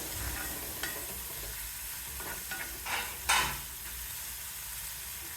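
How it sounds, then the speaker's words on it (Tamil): Vegetables sizzle quietly in a pan while a utensil stirs, with a few soft scrapes and clinks standing out against the low, steady frying hiss. "எல்லாம் சேர்த்து கொஞ்சம் வதக்கிட்டு"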